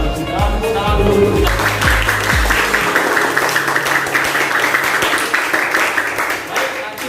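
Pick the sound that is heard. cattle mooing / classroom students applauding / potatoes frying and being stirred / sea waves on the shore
classroom students applauding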